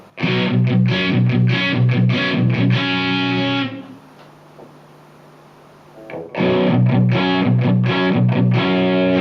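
Thick, heavily distorted electric guitar chords played loud through a Marshall AVT2000 amp, pausing for a few seconds of ringing hum before the chugging riff returns.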